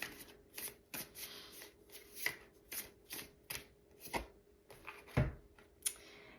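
A deck of tarot cards is shuffled close up in a series of quick riffling bursts, about eight rapid flutters with short pauses between them, plus a couple of sharper taps. Nobody speaks.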